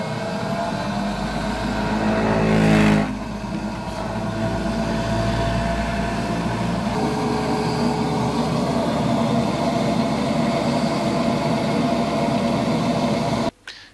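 A benchtop centrifuge spins tubes of honey to separate out pollen, giving a steady whirring drone with a brief swell early on, a shift in pitch partway through and an abrupt stop at the end.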